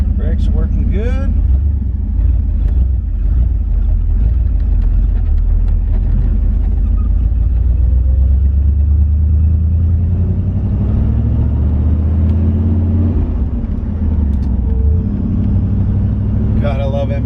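A 1970 Corvette with a 454 big-block V8 and M22 close-ratio four-speed drives along a dirt driveway, its deep engine rumble steady and close throughout, with someone talking over it.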